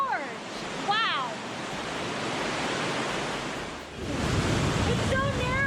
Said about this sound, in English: It's so narrow, and there's rushing water on the other side.